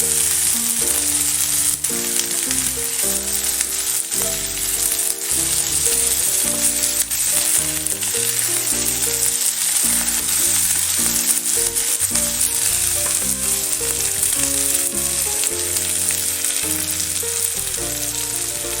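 Winter vegetables being fried and stirred in a pan for a chicken stew, a loud continuous sizzle with scraping stir strokes, while music plays throughout underneath.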